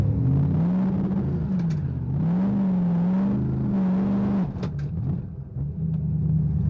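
A turbocharged Ford Mustang with a boost bleed solenoid fitted and a lowered launch RPM holds a loud, steady engine drone at the drag strip start line, wavering slightly, with brief sharper bursts near the end.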